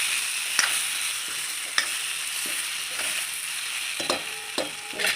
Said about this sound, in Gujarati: હલાવી લઈશું।